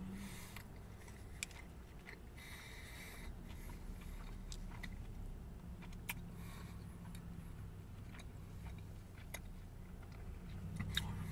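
Someone bites into a Burger King Farmhouse King sandwich and chews it for several seconds. The crunching and mastication stay soft and close over a quiet, steady background, with no talking.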